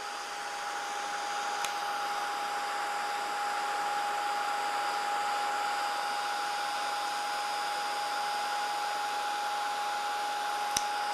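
A handheld heat tool or hair dryer blows steadily on Distress Stickles glitter paint on a craft tag, a continuous close whooshing hum with a faint whine, unbroken for the whole stretch.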